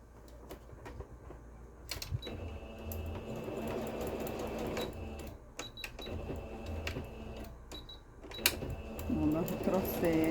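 A sewing machine stitches a seam with a backstitch at the start and end, giving bursts of rapid mechanical whirring and clicking separated by pauses, close up, with a person talking in between.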